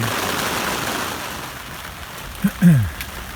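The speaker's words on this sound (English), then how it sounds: "we're getting a pretty good afternoon rain" Afternoon rainstorm patters steadily on a tarp shelter in Cheaha State Park, Alabama, a broad hiss of rain heard up close, with a brief low voice sound near the end.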